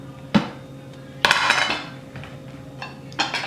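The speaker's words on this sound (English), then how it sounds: "mix it around, blend everything in" A spoon stirs apple raisin cinnamon filling in a pot, giving a few sharp metallic clinks and scrapes against the pan with quieter shuffling between them, close by and without talk.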